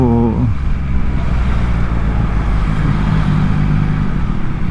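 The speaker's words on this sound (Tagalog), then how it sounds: "Traffic na naman po" Yamaha MT-09 motorcycle in heavy road traffic: the engine falls from a short rev into a steady, close low rumble, with surrounding traffic noise underneath.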